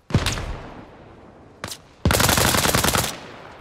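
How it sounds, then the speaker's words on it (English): Enemy gunfire in a sniper video game: a sharp shot echoing away, a short second burst, then a loud sustained rattle of rapid automatic fire lasting about a second, close and dominant, no voices. "Well, he's firing."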